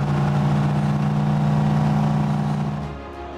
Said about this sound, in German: Die V8 Motoren brüllen heiser und dunkelgrollend zum Gefecht.